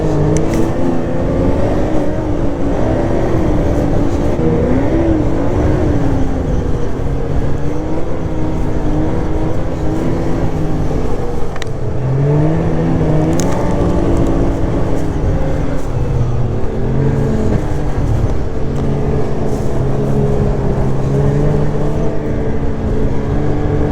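A 1200 motorcycle engine drones steadily while riding in a group on a Vermont road, loud and continuous with shifting revs and wind roar throughout.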